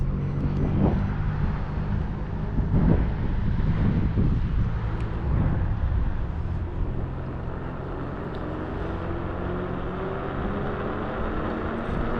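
Off-road iScooter W12 electric scooter running on two motors, heard as a steady rush of wind and rolling noise with motor whine, fairly loud and continuous throughout with no talking.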